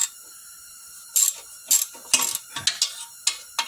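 A ratchet clicks in short bursts while bolts are tightened on the catalytic converter of a 2003 Toyota Sienna van, with close metallic clicks that come irregularly and no talk.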